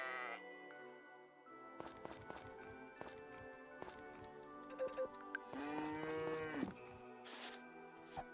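Synthesized cow moos and bleating from farm animals in Friends of Mineral Town, a farming video game, with tonal calls over soft background game music and light clip-clop footsteps.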